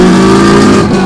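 A loud LT1 6.2-liter V8 engine roars and revs through a straight-pipe exhaust with no catalytic converters or mufflers, a raw, unmuffled rumble, close and continuous throughout.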